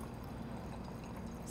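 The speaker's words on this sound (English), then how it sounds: "So pouring wine in 3, 2, 1." Petite Syrah wine streaming from an automatic wine dispenser, a soft steady pour heard briefly and quietly without talk.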